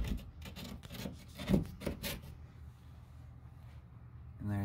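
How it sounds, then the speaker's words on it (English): Cut drywall being pulled out of a wall while installing an outlet: a quiet cluster of scraping, crumbling and rasping pops in the first couple of seconds, then near silence with a faint hum. "just pull the drywall right out."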